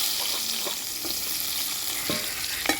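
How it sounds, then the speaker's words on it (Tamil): Garlic cloves and small shallots sautéing in hot oil in a pan, a steady broadband sizzle with a few scraping stirs of a spoon against the pan, close and continuous with no talking. "பூண்டும் சின்ன வெங்காயமும் வச்சுருக்கேன், அதையும் போட்டு நல்லா வதக்கிக்கலாம்."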